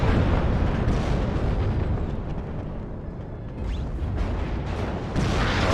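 Artillery barrages in the WARNO war game land as a dense, continuous roar of loud explosive rumble, steady across the whole stretch with slight swells near the end.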